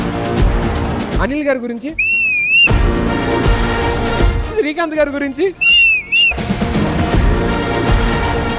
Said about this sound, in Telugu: ఒక్కొక్కరి గురించి ఒక్కొక్క స్టైల్లో విజిలేయాలి.